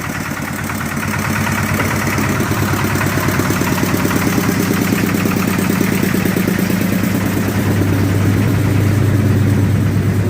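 A walk-behind tractor with a trailer hitched idles steadily close by, its engine a continuous even chug that grows slightly louder and heavier toward the end, with no one talking.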